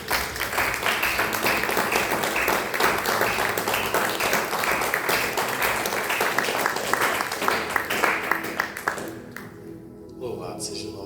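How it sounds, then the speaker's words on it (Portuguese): A church congregation applauds during a Thursday worship service, loud sustained clapping from many people that tapers off near the end, where a voice starts speaking. "Vamos aplaudir o nome do Senhor Jesus?"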